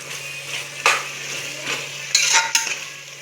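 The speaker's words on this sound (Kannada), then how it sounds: "ಚಿಕನ್ ಎಲ್ಲ ಚೆನ್ನಾಗಿ ಇವಾಗ ಎಣ್ಣೆ ಬಿಟ್ಟಿದೆ." Chicken frying in oil in a pan, stirred with a utensil, gives a steady low sizzle broken by a few sharp scraping clinks of metal against the pan, heard close up with no talking.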